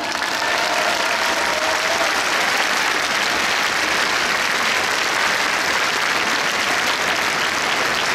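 Loud, dense applause from a large festival crowd in a Tokyo Dome City hall after an Aomori dance spectacle with live musicians and a real nebuta float, steady and continuous throughout.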